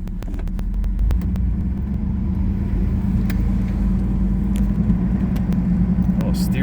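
A 1981 Turbo Trans Am drives along with a steady, low engine rumble and road noise, a few small rattles and clicks sounding inside the cabin.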